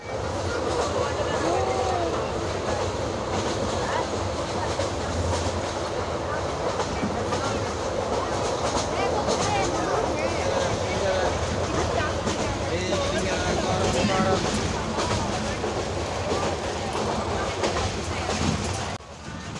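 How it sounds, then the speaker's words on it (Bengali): Inside a Mahanagar Express passenger train in Bangladesh as it begins to pull out, a constant rumble with clacking wheels and rattling carriage noise, with people talking under it. "ট্রেন আস্তে আস্তে চলা শুরু করে দিচ্ছে।"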